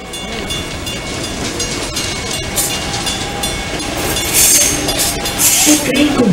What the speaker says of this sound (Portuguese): will arrive express train to Santa Cruz Station at platform 3